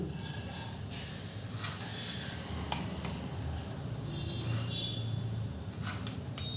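Sugar spooned into a wok on a gas stove, a run of light metallic clinks and scrapes of a spoon against the pan over a low steady hiss, with no talk.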